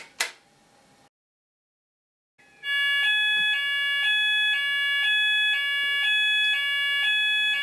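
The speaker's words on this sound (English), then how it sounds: "We can hear the alarm sounding" Fire alarm sounder set off by a weekly manual call point test, a loud, steady pulsing electronic alarm tone in a regular repeating beat, following a sharp click and a short pause of silence.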